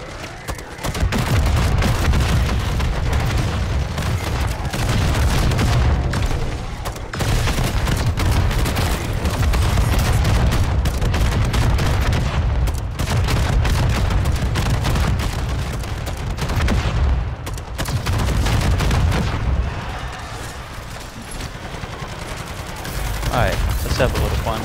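An RGL grenade launcher fires in MW3 Zombies, a loud, almost constant barrage of blasts and gunfire across the whole stretch, with voices mixed in the game noise.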